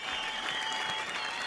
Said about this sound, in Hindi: ताली तो बनता ही है भाई तुम्हारे लिए